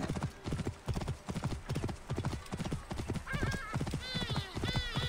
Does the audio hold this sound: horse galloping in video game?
yes